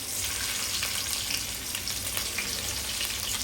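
Garlic and green chilies hit hot oil for a crab (chimbori) curry in Agri Koli home cooking, giving a dense, even, hissing sizzle that stays close and steady throughout with no talk.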